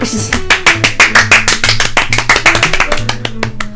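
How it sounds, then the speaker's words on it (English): Sharp, loud hand claps in a quick irregular burst, close and dry, running steadily with no talk over them. "Please stop clapping."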